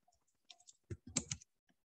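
A few quiet keystrokes tap on a computer keyboard in a short, uneven cluster, faint and close with nothing else around them.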